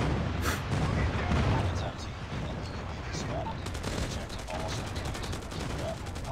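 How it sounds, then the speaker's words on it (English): Friendly airstrike explosions in the mobile shooter Call of Duty Mobile, heard as a dense, continuous roar of blasts and gunfire, loud and close throughout. "Friendly airstrike incoming."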